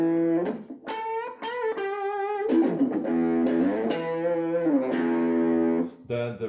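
Electric guitar run through a DIY ring-modulator-style effects pedal with distortion, playing sustained, harmonically rich notes with metallic, buzzy overtones in several phrases, loud and continuous.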